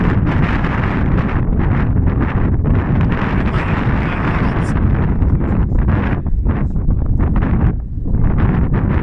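Strong wind buffets the microphone during kiting practice, a loud continuous roar with gusty rumbling that runs the whole time; voices are barely present beneath it.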